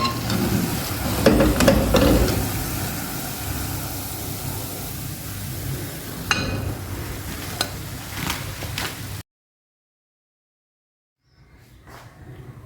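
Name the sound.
pakoras (potato spinach fritters) frying in oil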